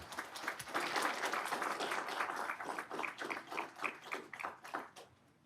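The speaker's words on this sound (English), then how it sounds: "So give them, clap of hands." Applause from a small room at a city council workshop, a steady patter of many hands that thins in the last seconds into a few separate claps, fairly quiet and with no talking.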